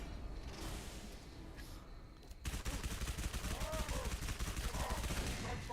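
SMG fire in Halo 3: ODST rattles out in a long, rapid continuous burst of close, sharp shots, with quieter scattered effects before it starts.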